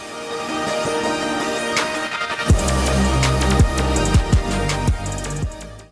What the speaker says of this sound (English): You can add a telephone-shaped EQ and a gross beat and link them into the same automation clip.